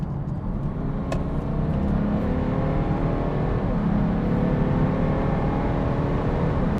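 A tuned BMW 435d xDrive accelerates hard on a wet road, heard from inside the cabin as a steady, loud low diesel drone that rises in pitch, with tyre and road rumble underneath.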